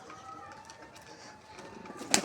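Pigeons coo and squabble faintly in a home coop, soft low calls over quiet background rustle, ending with a sharp click.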